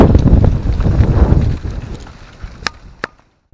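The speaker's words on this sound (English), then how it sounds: "that's really windy" Strong wind buffets a microphone at a campsite near Jackson Falls in December, with loud, gusty low rumble for the first second and a half before easing off, followed by a couple of brief sharp knocks.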